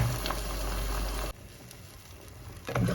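Tamil Nadu-style potato masala cooks in water in a pan, a steady bubbling simmer with a low rumble that drops away partway through, then returns as a soft, continuous burble.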